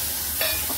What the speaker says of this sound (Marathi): मसाले आपण इथे चांगलं तेलात भाजून घेऊया। पण बॉईल केलेले वाटाणे आहेत ते टाकून घेऊया।